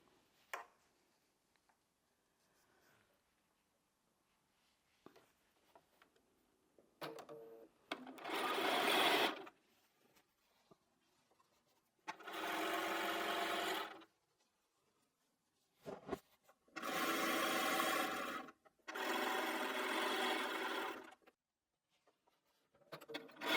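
Sewing machine stitching quilt fabric pieces for a bed runner, several loud bursts of rapid whirring at close range separated by pauses with small handling clicks and rustles.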